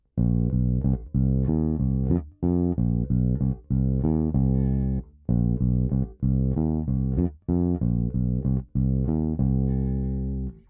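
A bass guitar plays a repeating riff of short, punchy low notes in tight groups with pickup notes, brief pauses between phrases, heard alone and up close.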